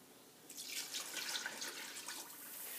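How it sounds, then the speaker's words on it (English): Water pours steadily into a cooking pot holding brown and white sugar for a syrup, a soft, even splashing that swells after a moment and continues faintly to the end. "I'm going to add 3 cups of water."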